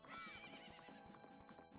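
Horse in Majora's Mask: a close, steady clip-clop of hooves opening with a sharp neigh, clear and uninterrupted with no talking.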